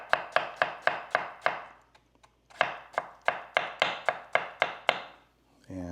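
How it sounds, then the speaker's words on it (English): A knife chops potatoes into quarter-inch half-moon slices on a board, with a quick, even run of crisp cuts, a short pause, then a second rapid series of close, sharp strokes. "let me show you how to cut those potatoes quick here"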